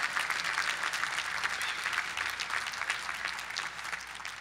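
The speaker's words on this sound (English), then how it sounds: "Give poetry a round of applause." A commencement audience breaks into sustained applause, a dense wash of clapping from a large crowd that holds steady for several seconds without fading.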